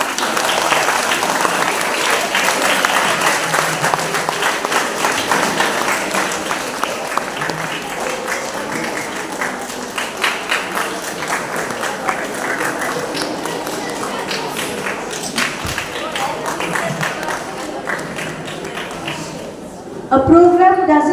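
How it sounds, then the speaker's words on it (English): A hall of children keeps up sustained applause while guests walk to the stage at a school investiture ceremony, the dense clapping continuing unbroken for about twenty seconds before a brief closing burst of noise. "Keep clapping till they reach the stage."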